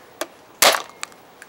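A modded Nerf Hammershot dart blaster fires once with a sharp, loud snap, surrounded by a few lighter plastic clicks from the mechanism, close up with no talking.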